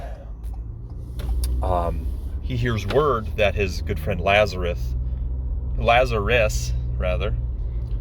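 A steady low engine and road rumble fills a moving car's cabin, heard from inside, with someone talking over it for most of the stretch.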